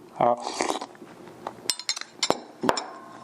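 Timbits cereal being eaten with a spoon: a few sharp clinks of spoon against bowl and soft crunchy chewing, close and moderately loud, in short irregular bursts.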